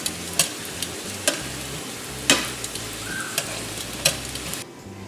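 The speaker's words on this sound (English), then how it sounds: "we're going to fry the tortillas first" Corn tortillas frying in oil in a pan: a constant close sizzle, broken by several sharp clicks and taps from a utensil at irregular intervals, then it drops off at the very end, with no talking.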